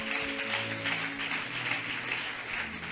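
Audience applause at a testimony gathering: steady, dense clapping from a crowd that holds at an even level throughout, with a faint tonal hum underneath early on.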